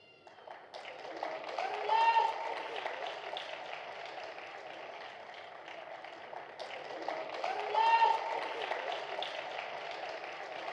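A crowd at a Christmas celebration claps in two sustained waves of applause, swelling and then easing, with voices mixed in throughout.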